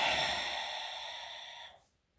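Someone exhales one long, steady breath after breathing in through the nose during Pilates breathing practice, loud and close, easing off before fading into silence near the end.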